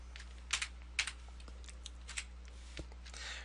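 Keystrokes on a computer keyboard, a few sharp clicks in quick bursts with pauses between, close and fairly quiet over a low steady hum.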